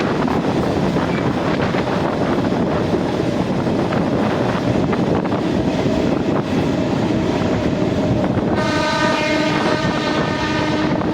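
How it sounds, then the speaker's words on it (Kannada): A diesel train horn blares near the end, a loud multi-tone blast over the steady rumble and wind of a passing train. "ನಮ್ಮ ಡೆಮೋ ಟ್ರೈನ್ನ ಹಾರ್ನನ್ನು ಕೇಳುತ್ತಿದ್ದೀರಿ ಅಲ್ವಾ ಗೈಸ್?"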